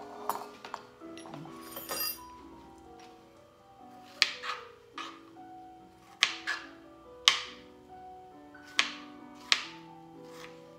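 A knife slices strawberries on a cutting board, giving a series of sharp, separate taps and clinks spaced about a second apart, close and clear with no talking.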